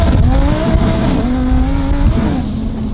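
A rebuilt Ferrari does a burnout, its engine roaring loud and close with a wavering high pitch as the tires spin, the pitch dipping and rising over about three seconds.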